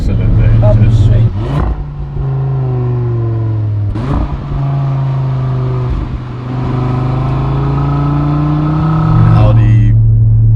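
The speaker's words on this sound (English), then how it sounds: "I was trying to listen to the sonorous 5-cylinder engine." An Audi RS3 Sportback's five-cylinder engine hums steadily with rising and falling pitch as it revs and shifts, loud and close, with a voice briefly speaking over it.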